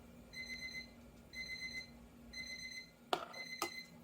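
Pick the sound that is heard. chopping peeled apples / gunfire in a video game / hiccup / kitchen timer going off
kitchen timer going off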